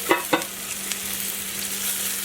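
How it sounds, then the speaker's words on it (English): Charred Brussels sprouts and onions sizzle steadily in a pan, with two sharp utensil scrapes near the start as they are lifted out, the frying hiss continuing softly afterward. "I'll take out the Brussels sprouts and onions first."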